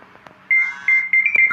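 Electronic phone-call tones from the Toca Boca World game: a few short steady beeps in quick succession, clear and close, with no talking.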